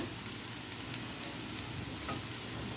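Sauce mixture sizzling in a hot pan for ham fried rice, a steady close crackle and hiss with small pops, no talking.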